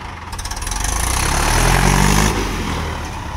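A tractor engine runs steadily on a farm during rice planting work, a loud continuous low rumble that swells slightly in the middle and holds near and even throughout, with no talk.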